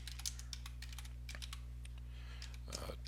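Keystrokes on a computer keyboard while entering a drafting point label in fire hydrant mapping software, a series of quick, light clicks in irregular bursts, fairly close, with a faint steady hum underneath and no talk.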